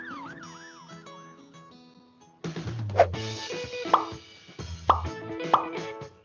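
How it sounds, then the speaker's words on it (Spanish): A rising and falling ambulance siren wails alone at first, then gives way to a louder burst of music with sharp accented hits. "reconocemos el sonido de una ambulancia y lo interpretamos como una situación de alarma"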